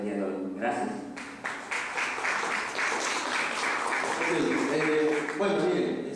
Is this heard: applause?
yes